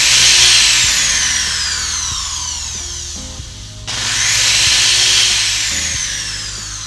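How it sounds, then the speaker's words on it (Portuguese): An electric drill powered through a high-current AC load control circuit whirs loudly, dips and slows near the middle, then spins back up to a strong whine. "Ajustado quando eu ligo a furadeira."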